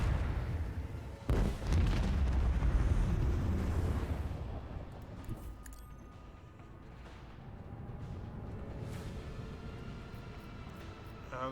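Ship weapons fire in the video game Rogue Trader: deep, rumbling artillery-like booms open loudly, then fade into a softer rolling roar with scattered sharper hits.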